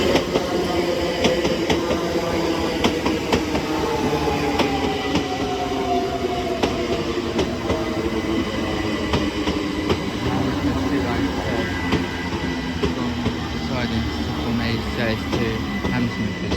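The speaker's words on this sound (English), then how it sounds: "Coming in A, the 1039 C2C service to Grays from London Fenchurch Street" A c2c Class 357 electric unit, number 357041, arrives at Barking station on the 10:39 service from London Fenchurch Street to Grays, giving a loud, steady rolling rumble with a slowly falling motor whine and rail clicks throughout.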